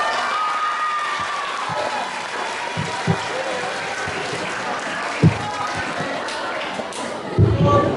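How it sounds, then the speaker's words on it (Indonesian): An audience at a high school literacy presentation claps after a student talk about a film, a dense wash of applause continuing beneath a speaking voice, with a couple of louder thumps near the end. "Mereka tuh memberikan tepuk tangan yang lebih banyak."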